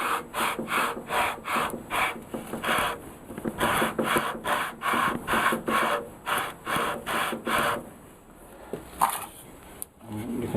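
A warped wooden electric guitar neck, from a vintage Sakai/Audition guitar, being sanded by hand in long, even back-and-forth strokes, a rhythmic close scraping rasp repeated about twice per second, slowing and breaking off near the end.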